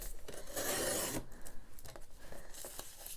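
Scissors trimming a thin strip off the edge of folded paper junk-mail envelopes, a close, dry rasping cut in a few short strokes, with a sustained crunch early on and lighter snips after.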